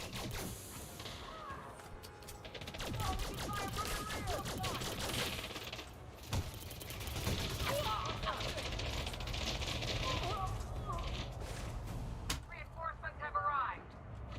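Rapid bursts of weapon fire crackle through an Elite Dangerous fight, fairly quiet and intermittent, with mechanical clanks and players talking over the shooting.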